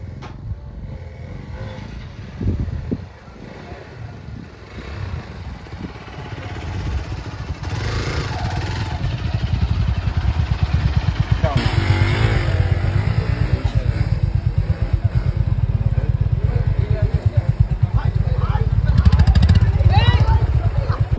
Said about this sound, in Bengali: বাইক চালানো হলো